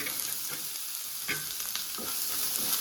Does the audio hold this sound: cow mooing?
no